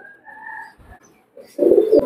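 A Black Horse pigeon coos nearby, a soft tonal call followed after a short pause by a louder, throaty burst.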